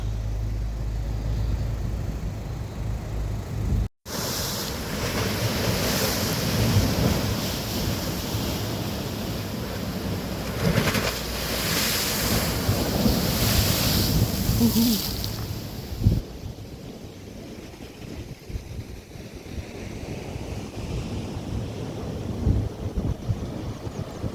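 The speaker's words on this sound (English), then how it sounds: "So that's Miami Beach, famous Miami Beach in Barbados." Surf rolls steadily onto Miami Beach in Barbados, a continuous broadband wash of breaking waves blended with gusty wind buffeting the microphone, loud and unbroken for the whole stretch, with no voices.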